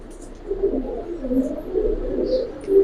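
Giribaz pigeons, a flying breed, coo close by in a soft, low, continuous warble that rises and falls over a few seconds, with no voices.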